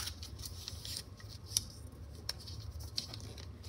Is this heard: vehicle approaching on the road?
no